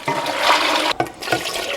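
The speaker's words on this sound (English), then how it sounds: "Now we gotta fill this up with water." Water runs steadily and loudly into a cooking pot for bun bo Hue broth, with a brief break and a couple of splashing surges.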